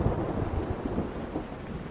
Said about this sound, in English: I can't see anything in this rain.